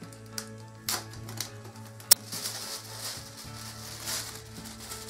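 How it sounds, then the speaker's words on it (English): A packet of tissue paper being opened for a DIY light box, with intermittent crinkles, tearing and rustling that are sharp and close and include one loud snap-like crackle, all against a steady low background hum. "Now you want to open your tissue paper."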